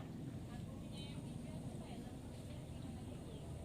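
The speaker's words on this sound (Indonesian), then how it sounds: "Mesin kompresor aktif bekerja." A freezer compressor running, a low, steady, faint hum that continues evenly throughout, with a voice speaking over it.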